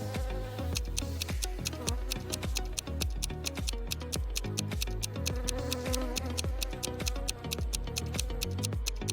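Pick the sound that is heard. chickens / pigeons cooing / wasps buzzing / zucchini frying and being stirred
wasps buzzing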